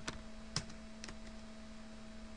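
Typing on a computer keyboard in a quiet room, a few soft, close keystrokes spaced about half a second apart over a steady low hum.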